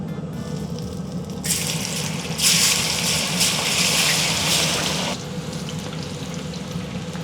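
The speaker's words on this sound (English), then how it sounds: "Let's get our first batch of fries going." A batch of fries is dropped into very hot oil, setting off a loud, broad hiss that peaks in a dense crackling sizzle and then settles to a steadier, quieter bubbling.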